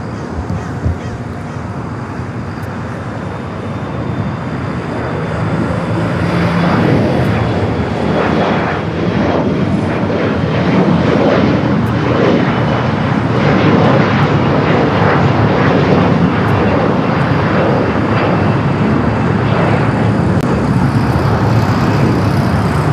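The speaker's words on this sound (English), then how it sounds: "On Docker, clear takeoff 25 right, corner left." An airliner takes off from runway 25 right at LAX, its jet engine roar swelling from a distant rumble into a loud, sustained broadband thrust that holds strong to the end, heard alone from the spotting position.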